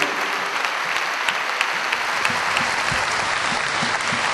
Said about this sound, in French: Applaudissez-les bien fort et levez-vous